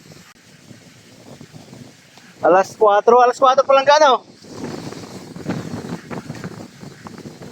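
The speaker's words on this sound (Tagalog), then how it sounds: "Ang lakas ng hangin dito sa pagawaan" Strong, gusty typhoon wind roars steadily around a workshop in Sta. Rosa, Laguna, during Super Typhoon Uwan, and someone speaks loudly over it for a moment.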